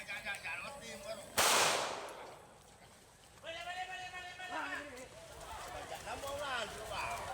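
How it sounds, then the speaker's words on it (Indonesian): One sharp police warning shot fired into the air cracks out loudly in the distance during a raid on a cockfighting arena, followed by a fading echo, then voices talking and shouting. "Tembakan peringatan ke udara dilepaskan aparat kepolisian"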